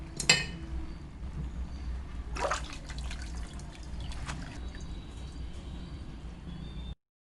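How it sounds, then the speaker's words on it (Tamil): Cold water splashes and trickles over hot cooked Hakka noodles in a kitchen. A sharp pour at the start and another splash follow, then a steady running trickle under faint clinks of a pot until it stops abruptly. "இப்போ இந்த சூட்டோட லேசாக மேலே பச்சை தண்ணி ஊற்றிப்போம்."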